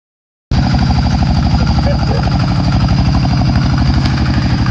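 An engine-driven water pump starts suddenly and runs at a steady, loud, close throb with a fast rhythmic chug that holds evenly to the end.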